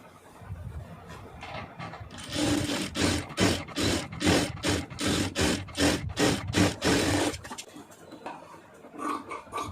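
A sewing machine stitches cloth pieces together for a scrap-fabric door mat, a fast run of evenly spaced mechanical clacks for several seconds, close and loud, with quieter handling before and after.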